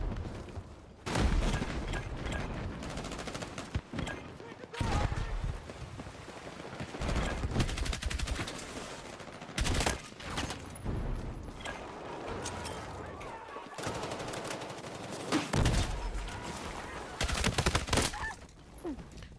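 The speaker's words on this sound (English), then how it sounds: "See, that grenade's doing some work. Look at it go." Gunfire and a grenade blast in the video game Battlefield 6 form a chaotic battle din: repeated volleys of shots, heavy booming impacts and sustained rattling fire, loud and close, with short lulls between bursts.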